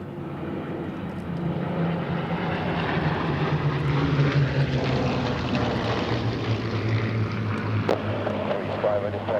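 A propeller-driven warbird flies over the Flying Legends airshow at Duxford in 2010, its engine a steady, fairly loud drone that holds for the whole stretch with a slight swell in the middle.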